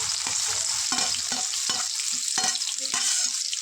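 Chopped onion fries in hot oil for a fenugreek-leaf dish, a loud close sizzle under a string of rhythmic scraping stirs and clanks from a spatula against the pan.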